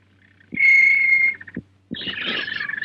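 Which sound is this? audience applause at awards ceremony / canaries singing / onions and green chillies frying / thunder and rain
canaries singing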